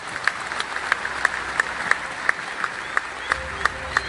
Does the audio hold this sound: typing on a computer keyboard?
no